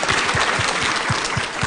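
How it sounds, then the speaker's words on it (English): Audience clapping together at the close of a conference panel at Cannes, a steady close crackle of many hands with no voices over it. "we should probably say thank you by applauding"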